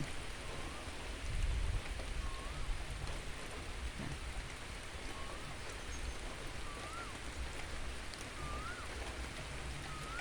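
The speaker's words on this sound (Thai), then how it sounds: "ฝนตกค่ะเพื่อน" Steady morning rain falls on a small farm with a constant hiss over a low rumble, and a few faint bird chirps sound in the distance.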